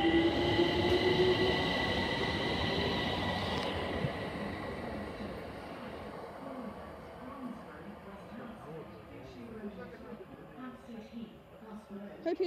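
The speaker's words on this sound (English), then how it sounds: "So here we've got class 378 going to Stratford." A Class 378 electric train rolls through Brondesbury Park station in London, a loud hum and rumble of wheels fading as it passes, with a high whine early on.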